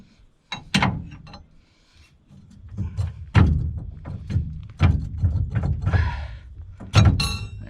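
Heavy metal thunks and clanks as a trailer hitch goes into the receiver of a Chevrolet Silverado 2500 Duramax L5P pickup, a string of close, loud knocks and scrapes spread over several seconds, no talking.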